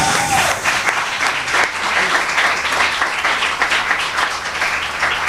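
A church congregation breaks into loud, sustained applause, dense clapping continuing throughout with faint voices mixed in.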